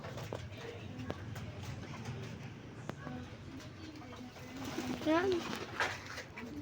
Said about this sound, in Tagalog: Ganyan ang kalapati.